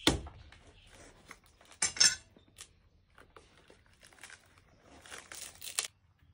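A knife cuts through a raw jackfruit, with intermittent crunchy slicing and tearing bursts, close and fairly quiet, separated by brief pauses.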